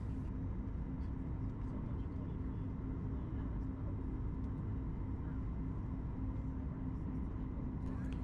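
Icelandair airliner on final approach to JFK in low visibility and cloud, a steady broadband cabin roar with a low engine hum holding constant throughout, no talk.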